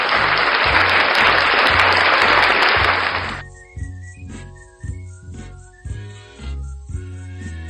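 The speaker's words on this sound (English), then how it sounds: "Give Mom a round of applause," Loud audience applause for about three seconds, then cuts off abruptly and gives way to a rhythmic musical beat with short synth tones.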